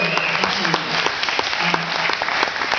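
Audience at a convention cheers and applauds for Ian Bell, co-author of the game Elite, with dense, continuous clapping and crowd noise close by.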